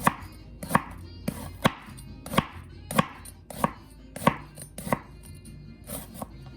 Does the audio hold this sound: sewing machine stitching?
no